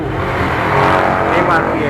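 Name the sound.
Kawasaki motorcycle engine revving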